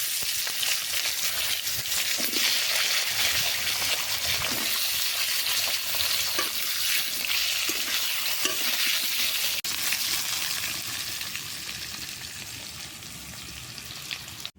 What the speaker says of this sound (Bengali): এবার ওই তেলের মধ্যেই আলুগুলো ভেজে নেব।